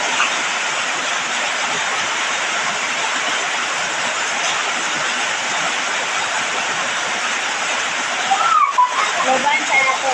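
Fish soup (tinola) boiling in a pot, a steady dense bubbling hiss close by and fairly loud throughout, with a brief clatter near the end.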